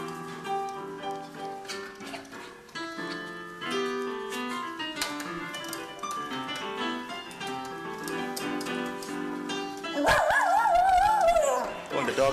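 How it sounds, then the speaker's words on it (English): A dog bays and howls in a rising, wavering pitch along with piano music, loud near the end after a stretch of music alone. "When the dog sings along."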